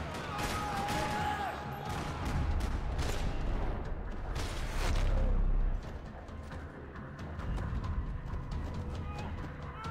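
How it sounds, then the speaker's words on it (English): Rapid volleys of gunfire in a parking lot in the video game Max Payne 3, with sharp cracks and bursts repeating over a dense rumbling background, heavier through the middle. "Another parking lot rattling with gunfire."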